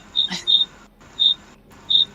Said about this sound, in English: I'm going to switch my Discord volume off so the squeaking crickets won't annoy anybody else